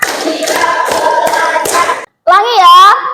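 Schoolchildren in a class clap their hands together in time with a teacher's count: several crisp, regular claps, then a short pause and a voice talking.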